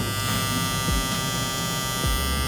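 A WMARK 2039 hair clipper runs at its higher 9,000 speed, a loud, steady, close electric buzz with a rattly hum that holds constant throughout.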